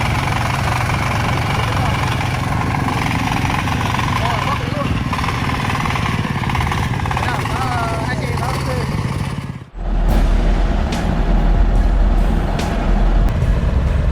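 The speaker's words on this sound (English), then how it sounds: "a powerful two-wheel drive tractor and a four-cylinder motorbike are struggling to carry bags of golden rice" A powerful two-wheel drive tractor and a four-cylinder motorbike haul bags of rice along a muddy road, a loud, steady engine drone that cuts off abruptly near the end, followed by a different low rumble with sharp knocks.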